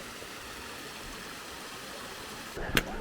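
A river flows steadily beside a trekking lodge on the Annapurna Base Camp trek between Ghorepani and Tadapani, a constant broadband rush with a brief louder splash or knock near the end.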